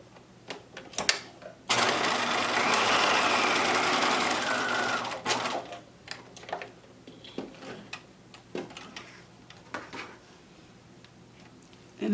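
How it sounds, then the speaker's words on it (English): A sewing machine stitches a cloth face mask in one continuous run of about three seconds, whirring loud and close, then falls to scattered ticks and clicks of handling fabric. "I'm going to just stitch the back or the side that goes to the ear"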